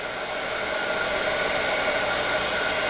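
A craft heat tool blows a steady, loud, even whoosh while melting mica embossing powder on a pinwheel tower card, holding constant without any voices.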